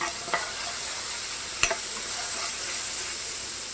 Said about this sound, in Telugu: నేను అదే బాండీలో కొంచెం ఆయిల్ వేసుకున్నాను. ఇప్పుడు ముందుగా పచ్చిమిరపకాయలు వేస్తున్నాను. ఇవి కొంచెం వేగాలి.